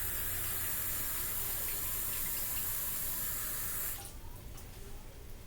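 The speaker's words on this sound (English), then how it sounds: "so we're going to add water" Tap water gushes steadily into a pot before green beans are boiled, a close, even rushing stream that cuts off near the end, leaving a softer trickle and drips.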